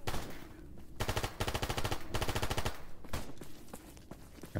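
Rapid automatic gunfire from the S.T.A.L.K.E.R. mod GAMMA in a battle mode, with loud sustained bursts of rifle fire, short pauses between them and dense, close rattling shots throughout.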